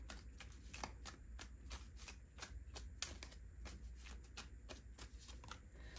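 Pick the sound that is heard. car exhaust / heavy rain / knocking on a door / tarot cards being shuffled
tarot cards being shuffled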